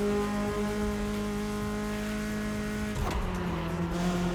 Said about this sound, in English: the Ferrari F40.